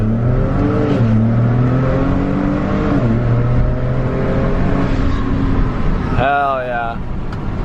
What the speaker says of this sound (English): let's go do some four-wheel drive launches